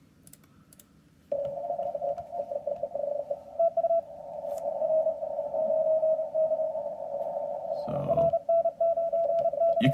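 A steady Morse code CW tone on a ham radio runs under faint static for most of the clip, with brief keying breaks and a short burst of noise near the end.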